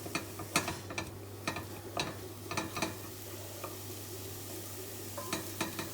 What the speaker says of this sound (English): So, it's starting to sizzle. So if you keep stirring it,